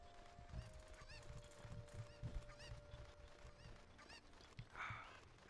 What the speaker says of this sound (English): My favorite task, collecting chicken.